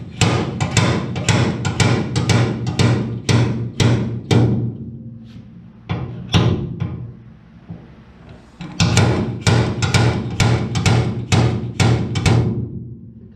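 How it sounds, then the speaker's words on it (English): A slide hammer yanks at a welded stud on a truck bed, producing rapid loud metallic knocks in fast bursts, pausing briefly before more strikes and another fast series near the end. "we got the slide hammer in here"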